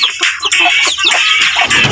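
Chickens cluck and squawk loudly at close range, several birds calling over one another in a busy, continuous chorus.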